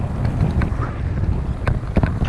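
Steady wind buffets the microphone with a low, continuous rumble, with faint gusty thumps and occasional higher rustles.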